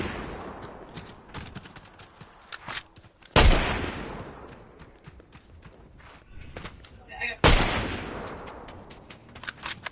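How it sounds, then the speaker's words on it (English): A player's gunfire in Fortnite, rapid clicks and shots punctuated by two sharp, loud blasts that ring out, with footsteps and someone talking underneath. "That's me shooting."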